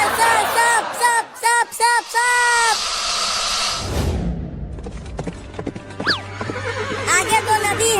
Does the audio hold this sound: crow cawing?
no